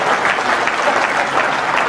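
An audience applauding together, a dense and even burst of clapping that carries on at full strength from start to finish with no speech over it.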